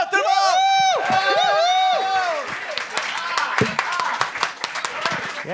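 An open-mic crowd at a televised gong show cheers and shouts for the first comedian, with loud whooping voices that give way to scattered, dense clapping.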